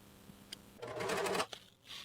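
A sewing machine runs a short stretch of stitching on a wool pea coat collar, a close, fast whirring rattle lasting about half a second, preceded and followed by faint handling clicks.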